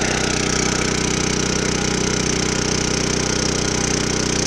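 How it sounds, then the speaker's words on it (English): A manure tanker's pump engine runs steadily and loudly, with a constant mechanical drone and rattle that stays even from start to finish, and no one speaks. "Get my hose here so I can get this pump to start"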